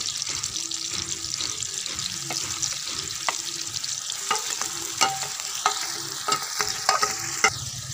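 Stuffed karela (bitter gourd) being stirred as it fries, a dense continuous sizzle broken by repeated scraping and clacking strokes of a spoon that grow more frequent toward the end, close up with no talking.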